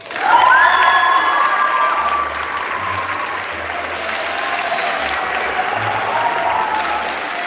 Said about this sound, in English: please try to hold your applause until the end